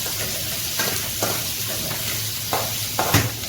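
Chopped onions sauté in a pan with salt for a spicy onion chutney, giving a steady soft sizzle broken by several sharp spatula scrapes against the pan.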